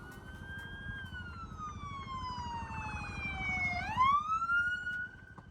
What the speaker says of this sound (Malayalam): എവിടെയോ എന്തോ എമർജൻസി ഉണ്ടായിട്ട് അവിടേക്ക് പോകുന്ന രണ്ട് പോലീസ് വണ്ടികളാണ്.